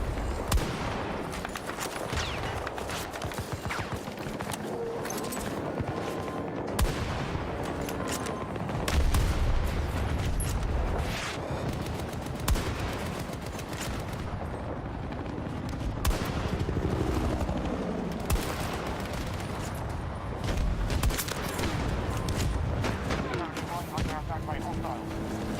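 Rapid gunfire from Battlefield 6 rattles almost continuously in dense bursts and single shots, with distant explosions and battlefield rumble mixed in, loud and busy throughout.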